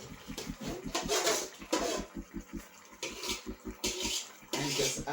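Boiling water is poured into a cooking pan to rinse it while cooking Jamaican curry chicken, giving splashing, sloshing bursts in uneven spurts, close and fairly soft, with a low rhythmic hum underneath.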